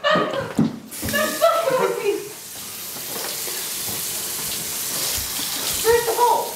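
Water runs steadily from a kitchen faucet during a rowdy cooking challenge, a continuous hiss under several excited voices talking and laughing at the start.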